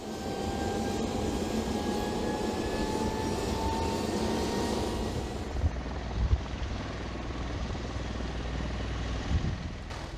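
V-22 Osprey tiltrotor aircraft at a Marine Corps air station in Japan, a steady loud rotor and engine roar filling the whole stretch, with a few brief thumps near the end and no voices.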